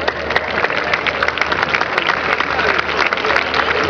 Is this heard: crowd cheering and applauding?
yes